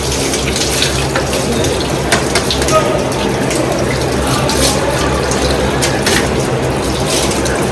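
Water runs steadily from a tap in a domestic kitchen, a loud continuous splashing gush that fills the whole stretch, with faint voices in the background.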